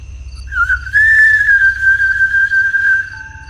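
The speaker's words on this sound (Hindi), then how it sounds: "फिर से सीटी बजी।" A single drawn-out whistled note, slightly wavering and held for a couple of seconds, sounds clearly and close over a low rumble in dark woods at night.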